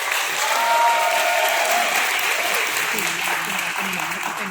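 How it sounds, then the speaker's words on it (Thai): Steady, dense applause from a seated audience at a plant-based protein presentation, continuous and even across the whole stretch, with faint voices underneath. "ขอเสียงปรบมือให้หน่อยครับ"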